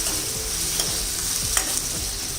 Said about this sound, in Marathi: हे सुद्धा आता चांगले परतून घ्यायचे तेलावर.